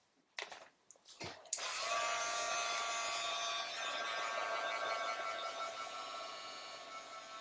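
A hair dryer drying craft cement starts after a few clicks and handling noises, then blows with a steady, close whine that fades slightly toward the end.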